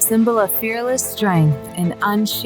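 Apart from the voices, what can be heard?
No everyday noise stands out behind the speech.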